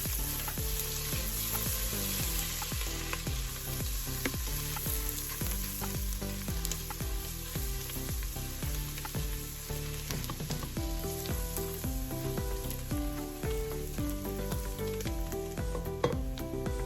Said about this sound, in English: And then we're going to saute our carrots.